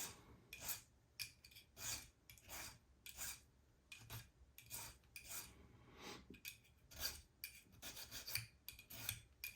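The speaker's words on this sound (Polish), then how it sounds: "Także teraz opiłowujemy dalej." A metal file rasps in quick repeated strokes on a cast gold engagement ring, a dry scraping rhythm close up with short pauses between passes.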